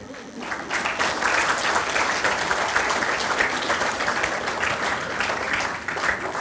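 Sustained group hand clapping fills the hall at a Resonance PCCP Division power session, a thick continuous patter of many hands, loud and even throughout.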